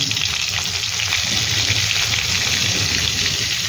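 Butter sizzles loudly in hot oil in a wok, a dense, constant crackling hiss that runs unbroken and close, with no voices over it.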